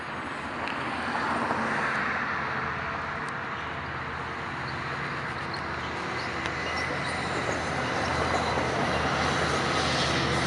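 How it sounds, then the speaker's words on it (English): AMT commuter train passing by outdoors, a steady broad rumble and rush of wheels on rails that holds evenly throughout at moderate distance, with no voices. "The MT train coming."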